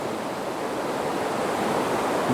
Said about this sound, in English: can hear the sound of that water